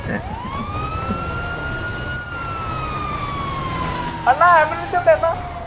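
A video game ambulance siren wails in one long, smooth, gently falling tone, and a voice chimes in briefly near the end.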